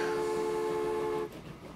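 A train horn sounds in the railway simulation game Transport Fever, a sustained steady tone for over a second that cuts off abruptly, leaving low rumbling game ambience.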